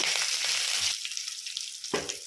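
Green chillies drop into hot oil and sizzle loudly and close, a bright hiss with a sudden crackling burst partway through.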